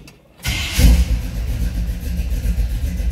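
A 1971 Chevrolet C10 shortbox pickup engine cranks briefly and catches after a moment of quiet, then settles into a loud, steady, rumbling idle up close.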